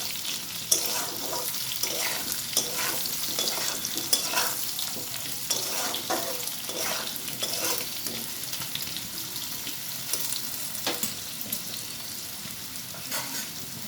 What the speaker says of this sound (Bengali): এগুলোকে ভালো করে ভাজা ভাজা করে দিতে হবে। মোটামুটি ভাজা হয়ে এসেছে, আর একটু ভাজতে হবে।